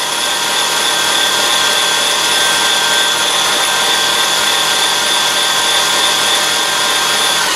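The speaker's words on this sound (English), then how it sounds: "Gonna mix this in until it's nice and creamy, which with this mix master won't take very long" A Mixmaster stand mixer creams sunflower butter cookie dough, its motor holding a steady, loud whirring drone with a high whine, running alone without pause.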